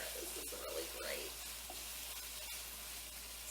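Quiet, steady sizzling of food for Portuguese tuna and macaroni frying in a pan, a constant crackling hiss with a few faint clinks.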